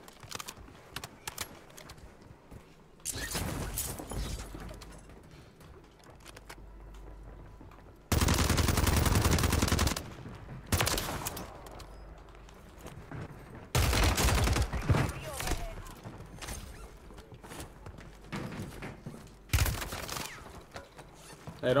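Bursts of automatic gunfire in the video game Warzone 3, with a TR-76 Geist rifle loadout in use, crackle in loud rapid volleys of a second or two, separated by quieter stretches of clicking keys and faint game noise.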